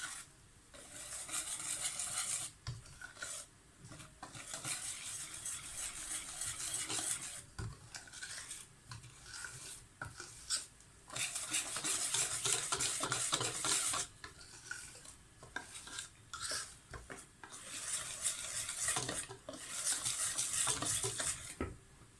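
Corn cake batter (basbousa-style) being stirred in a bowl, a steady scraping, swishing rhythm that runs throughout with brief pauses, close and fairly loud with no voices.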